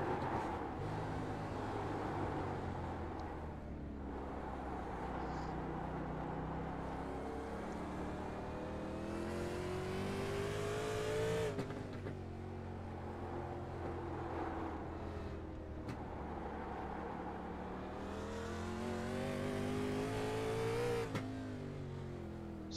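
Stock car engine heard from the cockpit in a racing video game, a continuous loud droning roar that rises and falls with gear shifts and throttle through the lap, no talk.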